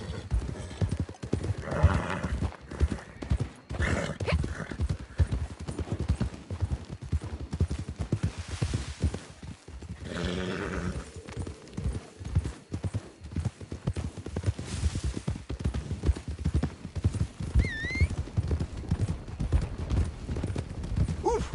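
Horses on horseback moving at pace, hooves clip-clopping in a rapid continuous rhythm with occasional neighs and whinnies, close and loud throughout with no talk.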